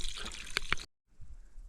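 A small mountain spring trickles and drips close by on a hike toward Bolshoy Thach, with a few bright splashy drops, a brief silent gap, then a faint continuous murmur.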